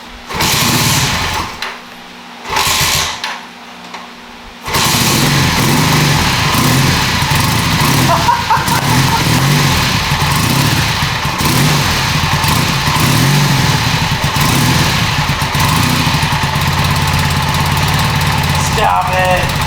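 A 1981 Honda CM400A motorcycle engine cranks in a few short bursts, then catches and settles into a loud, close, continuous idle with slight rises in revs.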